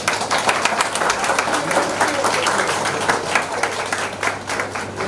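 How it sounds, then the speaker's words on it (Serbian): Applause from guests at a civil wedding ceremony as the groom is introduced, a steady wash of clapping lasting throughout with a low hum underneath. "aplauz"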